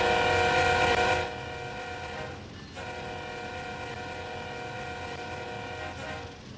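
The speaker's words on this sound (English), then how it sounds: "I was expecting the train to overtake me." A passing train in the Train Sim World 5 video game, a steady broad rumble with sustained horn-like tonal lines that are loud at first, then ease to an even level and hold.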